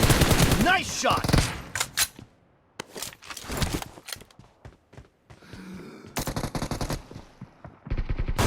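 Rapid bursts of gunfire from PUBG Mobile played on an iPhone 7 Plus, loud automatic volleys and single shots separated by short gaps, mixed with game voice announcements.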